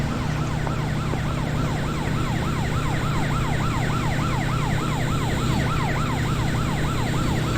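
A police car siren in a driving video game wails in a fast, steady up-and-down cycle, loud and continuous over a low engine drone.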